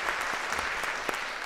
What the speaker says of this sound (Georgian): მხურვალე აპლოდისმენტებით გავაცილოთ სცენიდან.